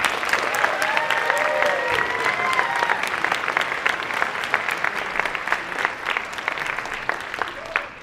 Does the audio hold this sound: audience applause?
yes